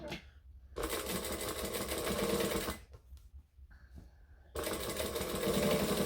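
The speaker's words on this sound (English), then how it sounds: "I'm going to crank this up to a 4 for the top stitching on the flap." A sewing machine runs in two long bursts of steady fast stitching while top stitching a pocket flap, with a short quiet pause between them. It is close and loud, and no one speaks.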